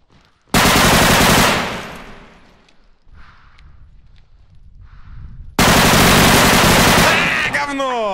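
A long, loud burst of automatic weapon fire in the Unreal Engine 5 shooter Bodycam trails off into a quieter stretch of distant shots, then a second heavy burst erupts close by.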